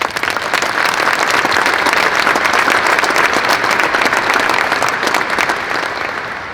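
A crowd applauds loudly at an Air Force change-of-command ceremony for the 931st Air Refueling Wing. The dense, sustained clapping holds steady for several seconds before easing off slightly at the end.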